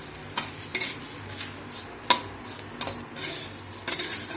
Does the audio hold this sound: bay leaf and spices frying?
yes